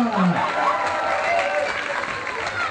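A crowd at an outdoor town-square celebration of a women's basketball championship breaks into applause and cheering, a dense, moderately loud wash over a couple of seconds with an announcer's voice briefly audible.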